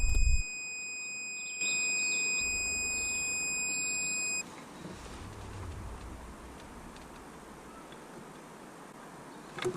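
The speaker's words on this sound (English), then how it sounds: "When the meter beeps, it means current can pass through the plug, so we can be pretty sure it's working" Multimeter continuity beep while testing heater plugs from a Renault Clio Mk3: a steady, thin electronic tone lasting about four seconds, then stopping and leaving quiet background hiss.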